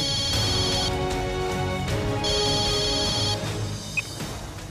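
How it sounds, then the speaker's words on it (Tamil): A telephone ringtone plays loud and close, a repeating electronic melody with two bright bursts about two seconds apart over a sustained tone, fading near the end. "யார் இந்த நேரத்துல போன் அடிக்கிறது"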